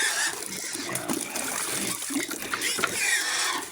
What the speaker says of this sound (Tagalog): Lagyan muna natin ng tubig ang likid na mga kaboy.